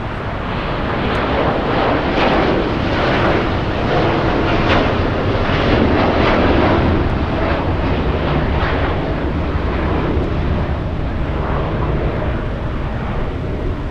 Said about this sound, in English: 787 Dreamliner is flying to Haneda, United 39.